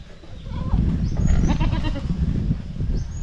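Goat bleating at a farmyard slaughter, a short wavering bleat standing out over low rumbling background noise and handling sounds, fairly close.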